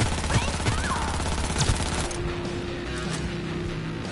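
Gunfire from a tech weapon in Cyberpunk 2077, a rapid burst of loud close shots that cuts off about halfway, leaving a quieter game hum behind.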